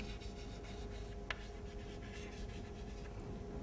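Chalk or marker writes on a board during a mathematics lecture, a faint, soft scratching and rubbing over a low steady room hum, with one brief sharper tap.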